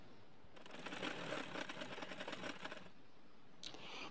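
Sewing machine stitching a narrow hem along the bottom of a round girl's dress, a steady rapid mechanical whir running for about two seconds, then stopping, close and fairly quiet.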